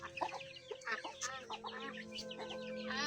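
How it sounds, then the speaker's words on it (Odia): Chickens cluck and chicks cheep close by, a busy, overlapping chatter of short calls that continues throughout at moderate loudness. "କେତେ କୁକୁଡ଼ା ଛୁଆ।"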